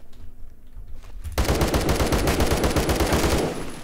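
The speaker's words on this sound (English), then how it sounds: "Oh, he's shooting at me" Sudden loud automatic gunfire in the Roblox game Phantom Forces, a sustained rapid rattle of shots that starts abruptly after a brief quiet moment and continues to the end.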